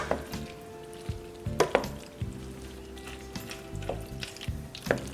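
Macaroni being stirred into a cheese sauce for mac and cheese with bacon, heard as close, repeated scraping and clattering of a utensil against the pot with a few sharper knocks, alone without talk.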